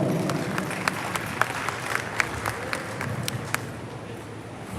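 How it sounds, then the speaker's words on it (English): Scattered applause from a crowd at a junior livestock show, light and steady with a few sharper individual claps, heard over a noisy arena background. "please give them a round of applause"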